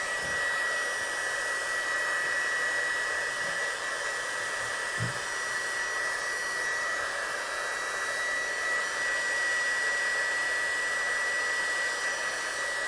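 A heat embossing tool blows hot air over embossing powder on a stamped card, a steady loud whirring hum running unbroken and close throughout.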